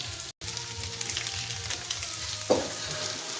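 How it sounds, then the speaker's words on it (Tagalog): Pork pan-frying for a pork tomato dish gives off a steady, close sizzle with faint stirring and a small clatter near the end, and no one talks. "ganito lang pagluto, pinapan-fry ko"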